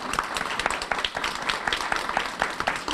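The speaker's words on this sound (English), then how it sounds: "Would you please give the 24th your roaring applause?" An audience at a conference opening session applauds steadily, many hands clapping in a dense, even patter that continues throughout.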